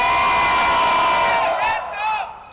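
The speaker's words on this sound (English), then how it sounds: "Team Eagle supporters, can you make some noise?" Team Eagle supporters in a crowd at a live gaming event cheer and shout together, a loud sustained roar with high whoops that swells, then fades into scattered calls near the end.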